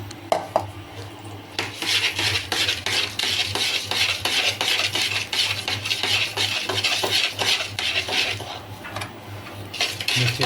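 Fish bait paste being stirred and mixed in a container: a steady, loud scraping and rubbing that repeats in quick strokes for the whole stretch, with a low hum underneath.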